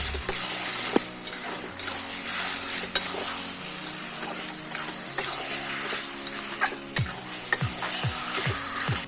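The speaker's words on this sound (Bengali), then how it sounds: "এবার আমি দিয়ে দেব মটন। এবার আমি ভালোভাবে কষিয়ে নেব।" Mutton and spices fry in a pan, a constant sizzle broken by repeated scraping strokes of a stirring spoon that turn into a quick rhythmic run near the end.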